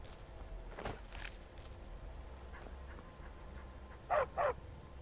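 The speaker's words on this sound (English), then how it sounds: "Hey, my doggy!" A dog in the video game Skyrim gives two quick barks close together near the end, after a stretch of quiet in-game ambience with soft footstep-like noises.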